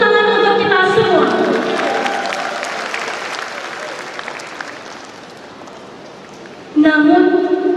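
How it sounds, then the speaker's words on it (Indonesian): Applause from the audience at a university graduation ceremony in an auditorium, a broad wash of clapping that slowly fades under an amplified speaker's voice. "Tepuk tangan untuk kita semua."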